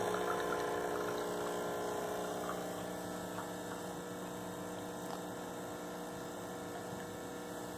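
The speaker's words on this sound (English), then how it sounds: "you push the top button. Espresso comes out." A Francis Francis espresso machine pumps out a shot with a steady, muffled pump hum and faint liquid trickle, continuous and fairly quiet throughout.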